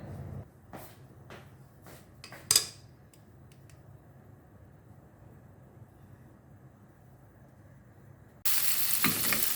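Egg frying in a pan with leftover food: quiet low crackling and a few clinks give way to a loud, bright sizzle near the end.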